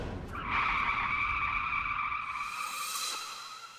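Cartoon car skids to a stop with a long, loud, steady tire squeal that trails off at the end, heard on its own.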